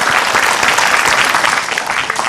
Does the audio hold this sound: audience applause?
yes